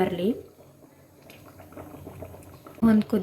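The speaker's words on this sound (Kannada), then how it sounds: "ನೋಡಿ, ಒಂದು ಕುದಿ ಬಂದಿದೆ." A vegetable lentil stew with tamarind juice and sambar powder bubbles at a boil in a pot, a soft simmering burble under a voice speaking briefly at the start and end.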